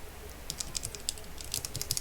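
Typing on a $10 mechanical keyboard fitted with a clay mod, a quick run of soft, muted key clacks in an irregular rhythm, close and moderately quiet.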